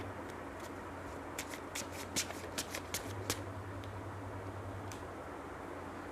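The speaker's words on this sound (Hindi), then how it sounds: "चलिए एक कार्ड में और निकालती हूँ" A tarot card deck being shuffled and a card drawn, a quick run of crisp card flicks and snaps in the middle, close and fairly quiet over a low steady hum.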